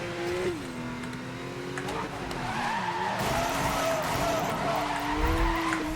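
Porsche tires skidding and squealing through a drift in Need for Speed: Most Wanted (2012), a sustained wavering screech over a steady engine drone, continuous for several seconds.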